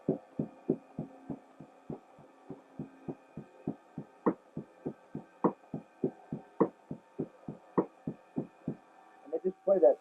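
A bass drum with a pillow inside is feathered softly with the foot pedal, producing a steady stream of muffled low thumps in a regular jazz pulse, with slightly stronger accented beats at intervals.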